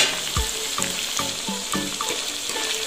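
Beef fillet with onions sizzles gently in a pan over medium heat, a steady close frying crackle with a few soft utensil knocks and scrapes, no voices.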